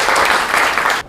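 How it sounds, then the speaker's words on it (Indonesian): A classroom of students applauds a classmate, giving a brief burst of brisk clapping that stops abruptly after about a second. "Tepuk tangan untuk nada"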